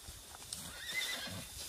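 A horse on a countryside ride, hooves clip-clopping close by with a short whinny, brief and clear against a quiet outdoor background.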